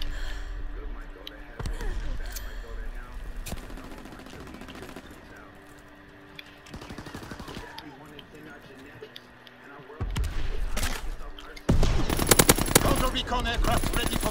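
Bursts of gunfire ring out in a World War II shooter game, scattered shots and rapid volleys over game noise, growing louder and denser toward the end, while players talk over it.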